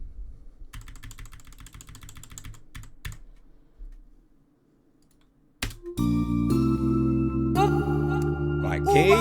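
Keyboard keys from an Afrobeats song, entering partway through as a bright layered part that fills out the chorus over deep bass, loud and steady after a brief quieter dip.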